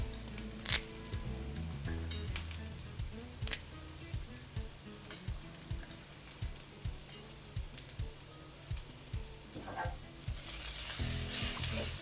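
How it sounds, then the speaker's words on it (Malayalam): Bitter gourd fries in oil in a pan, a steady low sizzle under a regular series of soft scraping knocks from stirring, with a sharp clatter early on and a louder hiss swelling at the end. "പാവയ്ക്ക് ഇടയ്ക്കിടയ്ക്ക് ഇളക്കി കൊടുത്തുകൊണ്ടിരിക്കണം."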